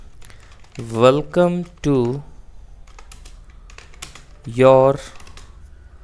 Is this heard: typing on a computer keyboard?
yes